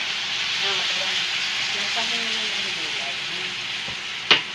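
Oil spattering while food fries in a pan, a steady loud sizzling hiss throughout with one sharp clink near the end.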